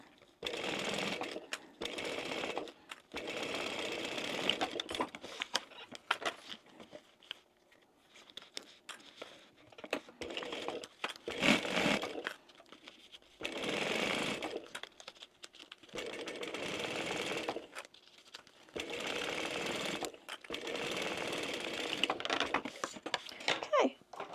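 A domestic sewing machine stitches a fabric zip pouch in repeated bursts of fast mechanical whirring and needle clatter, each run lasting a few seconds and separated by short pauses, close and fairly loud, with no voices.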